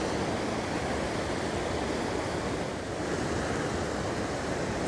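Steady river water rushing through a herring fish ladder on a stream off the Taunton River, a continuous broadband roar with no pauses, fairly close and loud, with no voices over it.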